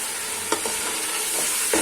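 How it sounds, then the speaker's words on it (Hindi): Meat frying in a pot for yakhni pulao, with a dense steady sizzle and a few soft stirring knocks against the pot, close and loud with no talk. "गोश्त को भून लेंगे, अच्छे से गोश्त को भून लेंगे"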